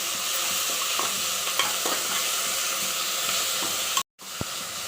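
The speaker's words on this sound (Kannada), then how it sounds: "ಚೆನ್ನಾಗಿ ಫ್ರೈ ಮಾಡೋದು." Coriander and mint leaves fry in a hot pan for ghee rice, giving a steady, close, dense sizzle with faint stirring taps, broken by a brief silence near the end before the sizzle resumes.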